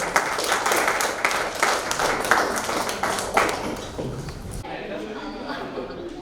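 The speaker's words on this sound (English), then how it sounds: "big round of applause" An audience at a conference session on environment, social and governance applauding, a dense burst of clapping that fades toward the end while voices carry on beneath.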